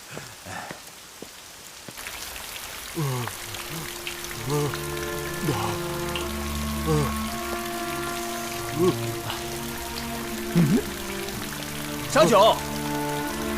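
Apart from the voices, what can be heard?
rain falling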